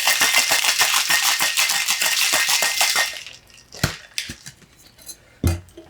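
Ice rattles rapidly in a cocktail shaker mixing a bourbon and lime drink, a dense rhythmic clatter for about three seconds, followed by a few scattered clinks and knocks as the shaking stops.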